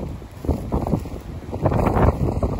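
Wind buffets a microphone inside a moving vehicle on a windy night. Gusty low rumbles surge and fade irregularly across the stretch, loud and close, with no voices.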